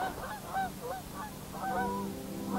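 Feeding geese honk and chuckle in a loose, overlapping flock, moderately close, with a steady low rumble underneath.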